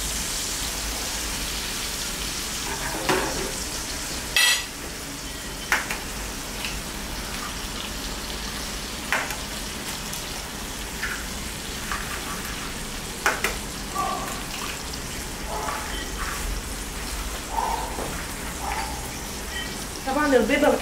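Eggs with pastrami frying in a pan, a steady crackling sizzle running throughout with occasional sharper pops and clinks, close and moderately loud, with no talking.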